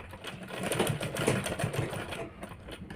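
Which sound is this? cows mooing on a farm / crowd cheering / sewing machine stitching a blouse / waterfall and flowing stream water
sewing machine stitching a blouse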